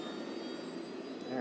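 A spaceship lifts off in a video game with a steady, faint jet-like engine roar that swells slightly near the end.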